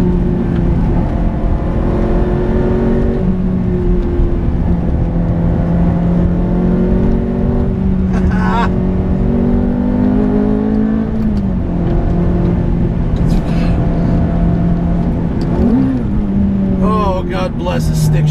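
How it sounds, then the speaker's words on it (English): A manual Ferrari F430 sports car's engine pulls hard while driving, a loud, continuous, close engine note that climbs and falls with the revs, with brief breaks between gear changes. "God bless a stick shift Ferrari."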